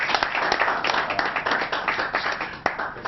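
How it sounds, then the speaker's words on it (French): Audience applause at the official presentation of the Ekanbi Brillant site, a dense, steady burst of many hands clapping close by, continuous for the whole stretch with no talk over it. "je vous demande d'applaudir Henri Dior."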